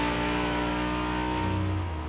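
Car engine and exhaust in the racing game The Crew Motorfest, a steady droning rumble holding at a constant pitch, loud and close, with a slight shift in tone near the end.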